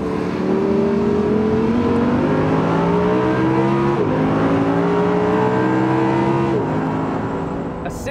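An Audi R8 V10 Plus engine revs hard toward high RPM, its loud, raspy howl climbing steadily with brief dips between gear pulls, close and dominant throughout.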